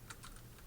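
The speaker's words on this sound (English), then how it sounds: "Typing." Quick taps on a computer keyboard, a few light clicks in a brief burst, close but very quiet, with no talk.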